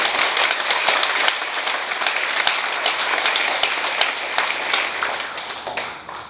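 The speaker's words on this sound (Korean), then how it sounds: "이런 제목을 잡아주신 교구장님께 박수 한번 칩시다" Audience applause for a district head at a Won Buddhist 'White Festival' dharma talk, a steady dense wash of many hands clapping that fills the room at even loudness before easing slightly at the end.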